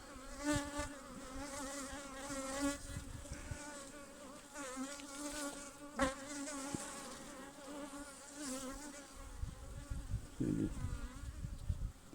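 Dense, steady buzzing of many Anatolian honey bees close by a hive, a continuous droning hum with wingbeat tones rising and falling, no voices.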